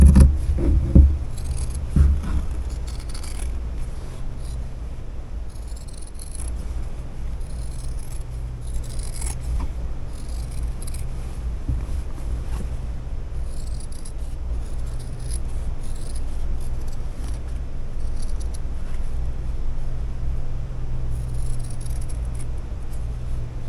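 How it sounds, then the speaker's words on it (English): Scissors cutting through fabric for a scrappy sloth appliqué on shortalls: faint snipping and scraping over a steady low hum that lasts throughout, with no voices. "I'm going to use these better scissors."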